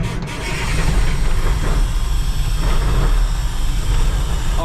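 A farm engine runs at a steady, loud, rumbling pitch up close as the fuel setting is turned up, a low continuous drone with no voices.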